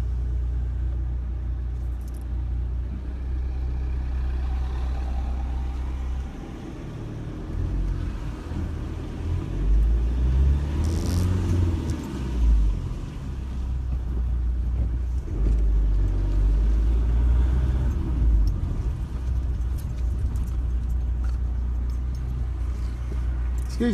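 A car drives slowly around a car park in Chelmsford, a continuous low engine and road rumble heard from inside, swelling and easing as it moves, with faint background sounds.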